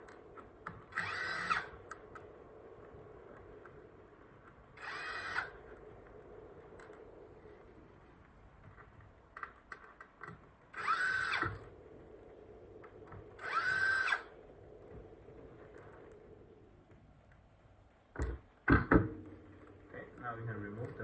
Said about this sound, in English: now we can remove the 4 T10 screws holding down the front battery pack